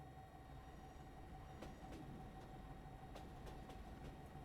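A train rolling along in the war game Foxhole, a quiet steady rumble with faint rhythmic clicks and clacks of wheels over track joints, heard alone at low volume.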